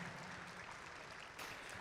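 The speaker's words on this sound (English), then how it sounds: "Can you give Qualcomm a huge round of applause?" An arena audience at a FIRST robotics district event in Columbus applauding for Qualcomm, a faint, far-off wash of steady clapping with a small swell near the end.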